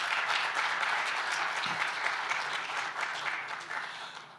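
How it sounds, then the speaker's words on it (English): Audience at a diplomatic forum's closing session applauds, a dense, steady wash of many hands clapping that gradually tapers off over a few seconds. "Give yourselves all a round of applause."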